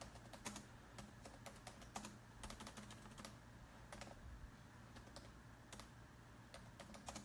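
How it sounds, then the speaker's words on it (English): Laptop keyboard typing, quick irregular bursts of light key clicks with short pauses, close but quiet over a low steady hum, no talking. "let me just type this in here."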